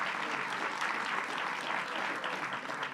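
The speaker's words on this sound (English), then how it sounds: "And let's give him a round of applause." An audience at a Brooklyn civic event claps in a steady, dense round of applause that carries evenly from start to finish.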